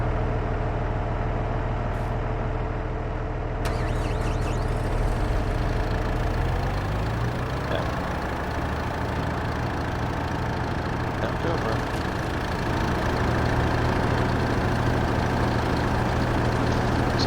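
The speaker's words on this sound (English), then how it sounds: "We may have to start this tractor." A farm tractor in a sugar beet field in Huron County, Michigan, rumbles steadily as its engine turns over and settles into a continuous idle, with a voice heard faintly underneath.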